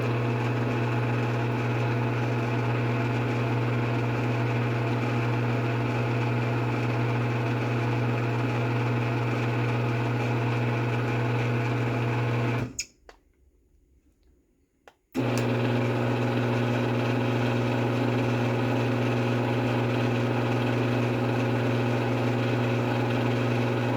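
A Genie Trac Drive Model 810 garage door opener runs with a steady, loud motor drone and a low hum, cutting out abruptly for about two seconds before resuming just as evenly.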